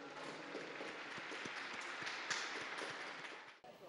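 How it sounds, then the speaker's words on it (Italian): A crowd applauds the newly beatified former judge at a church beatification ceremony, a faint, dense wash of clapping heard from a distance that continues steadily and then cuts off just before the end. "Un applauso al nuovo beato."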